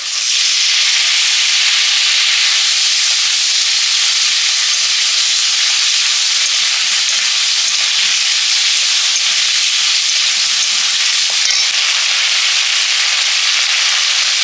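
Ginger dropped into hot oil while cooking chicken curry, a loud, dense, continuous sizzle and hiss close up that holds steady throughout with faint stirring underneath.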